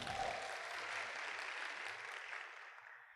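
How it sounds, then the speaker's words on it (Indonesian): Audience applause at a business seminar, a dense sustained clapping from a crowd that stays steady and full for about three seconds before easing slightly. "mohon aplaus untuk kita semua"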